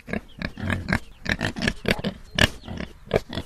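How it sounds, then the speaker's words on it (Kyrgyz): Pigs grunt in a steady stream of short, rough oinks at close range, overlapping one another continuously with no talk over them. "Бирок байкасаң, кадимки эле чочколор."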